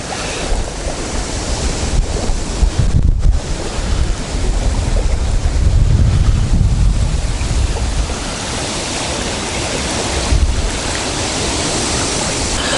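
Wind blowing on the Dnipro river in Kyiv during feeder fishing, a loud rushing roar with strong low buffeting gusts against the microphone, swelling and easing with no speech.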